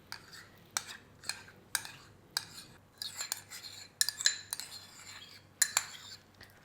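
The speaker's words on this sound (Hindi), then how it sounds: "ये बाउल में सबसे पहले मायोनीज़ निकालेंगे" A spoon scoops mayonnaise into a bowl for a creamy fruit chaat, with a series of quiet metallic clinks and scrapes that come in irregular bursts and are close and faint.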